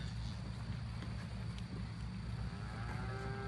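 Cattle on a farm with young calves: a faint, low moo drifts in near the end, far off beneath steady wind noise.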